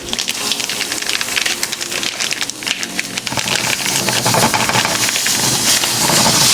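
Ground venison sizzling in a pan with sautéed, steamed veggies, a steady loud hiss and crackle that builds and holds throughout.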